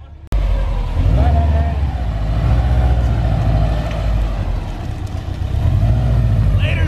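A car's engine starts abruptly and rumbles loudly close by, holding a steady low drone as the vehicle pulls off, while voices talk over it.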